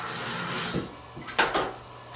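Tap water splashes briefly into an open developing tank during a C-41 film rinse, a close, uneven run of splashes with a couple of louder bursts.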